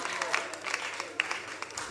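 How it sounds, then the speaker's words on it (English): Applause for a performer at a Ghanaian talent show, a steady patter of clapping from the audience with scattered sharper claps, moderately loud and continuous throughout. "A round of applause for Raymond."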